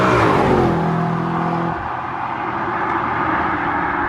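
An Audi RS4 engine revving hard under load, loud and close from inside the car, a strong rising growl that drops off after a couple of seconds into a lower steady drone.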